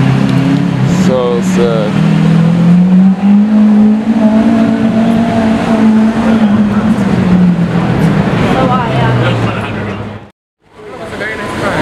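A loud car engine revs up on a city street and holds a high whine before dropping off, close by, with a person briefly exclaiming over it.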